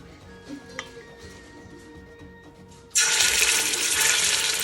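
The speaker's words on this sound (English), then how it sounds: "Okay, that's the sound you're looking for. That sizzle right there, that's what you're looking for." Meat browning in hot oil in a pot for jollof rice stew bursts into a loud, steady hissing sizzle partway through, following a quiet stretch of faint kitchen background.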